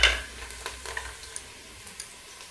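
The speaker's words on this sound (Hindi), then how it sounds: "घी गरम हो चुका है, इसके अंदर हम डाल देंगे तेज़पत्ता, इसके अंदर दालचीनी, लौंग" Bay leaf, cinnamon, cloves, ginger and garlic hitting hot ghee with a quick burst of sizzling, then a soft steady fry with faint scattered clicks and stirring taps.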